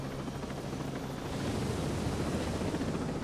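Helicopter in the Ghost Recon Breakpoint video game, a steady broadband rotor and engine drone with wind-like rush, continuous and fairly close throughout.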